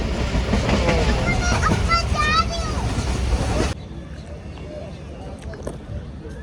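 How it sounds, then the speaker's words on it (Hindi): A passenger train running between Pindi and Alipur Chattha clatters along the rails in a steady rhythmic clickety-clack heard from inside a carriage, with people talking over it before the rumble drops to a quieter hum. "ट्रेन हमारी फिर चल पड़ी है"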